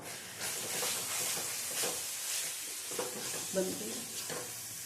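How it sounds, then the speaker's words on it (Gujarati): Spices, vegetable masala and fresh coriander sautéing in a hot pan for a Gujarati tuver dish: a steady, close hiss and sizzle with occasional stirring scrapes and soft clinks. "અને આ આપણે સાતળશું."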